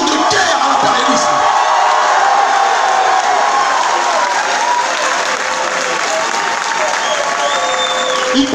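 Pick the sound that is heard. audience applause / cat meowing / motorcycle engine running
audience applause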